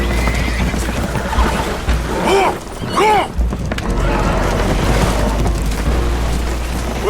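Spooked horses whinny loudly in Red Dead Redemption 2 aboard a damaged, leaking boat, with two or three rising-falling neighs over a rumbling low drone and clattering movement.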